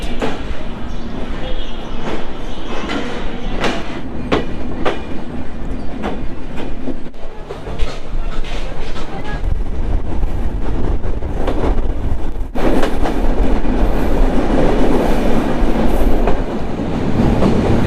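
The Rupashi Bangla Express on the Dhaka–Benapole line runs through Jhikargachha station without stopping, a loud continuous rumble with rhythmic clickety-clack of wheels over rail joints and a sharp shift in tone partway through.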